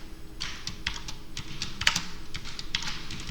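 Keys pressed on a computer keyboard, shift held with the end key among them, making a steady run of close, crisp clicks with a couple of sharper strikes, no voice.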